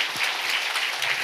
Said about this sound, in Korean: 성삼위 우리 하나님께 영광의 박수 보냅시다.